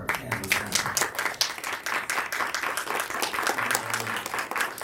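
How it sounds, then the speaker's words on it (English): An audience claps for a panel of speakers at a live-streamed discussion, steady mixed applause from many hands with scattered sharp claps, sustained throughout at moderate volume, with a voice briefly audible underneath. "How about we do a round of applause for our panelists?"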